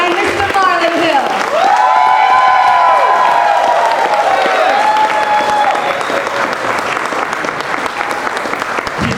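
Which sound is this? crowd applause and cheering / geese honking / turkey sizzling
crowd applause and cheering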